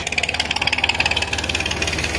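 A tractor engine drives a water bore pump by the Chenab river, chugging loudly and close in a fast, steady rhythm of regular pulsing knocks with no talking.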